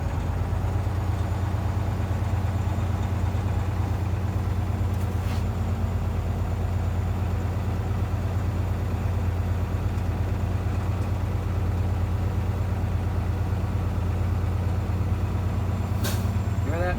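A truck's diesel engine is held at raised revs in the cab to build air pressure, a loud, even drone throughout, with two brief sharp bursts and low voices in the cab.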